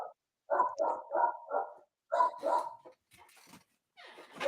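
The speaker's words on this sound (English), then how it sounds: "Damn dog." A dog barks close by in two quick runs of sharp, repeated barks with short pauses between, followed by a few fainter yips, during an informal podcast recording.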